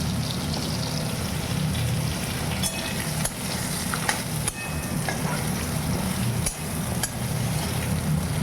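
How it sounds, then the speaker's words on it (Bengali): Pointed gourd (potol) frying in a pan, a steady dense sizzle with occasional sharp pops and crackles running throughout at an even, fairly loud level. "পটলগুলো আগে ভেজে নিই"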